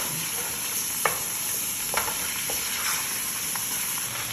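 Chicken sautéing in a little oil as its moisture cooks off, a steady hissing sizzle with occasional clicks from a stirring utensil, close and even throughout.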